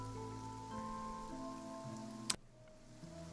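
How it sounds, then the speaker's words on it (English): Rain falls steadily in Genshin Impact, a soft continuous patter layered with faint tonal game music and a single sharp click near the end, with no voices. "It's raining."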